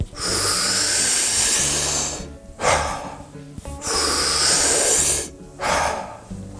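Deep belly breaths drawn in slowly, filling stomach then chest, each followed by a long audible release through the mouth, two full cycles heard close and loud.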